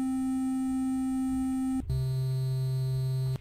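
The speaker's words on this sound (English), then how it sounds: "You'll notice just a flat note." An 8-bit synthesizer with its sweep switch off plays flat square-wave notes: one steady pitch, then a brief break and a lower steady pitch, loud and alone.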